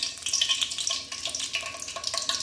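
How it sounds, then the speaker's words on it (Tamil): Mustard seeds frying in hot oil for a spicy pepper chicken tempering give a close, continuous sizzle dotted with quick crackles and pops. "இப்போ கடுகு நல்லா பொரியட்டும்."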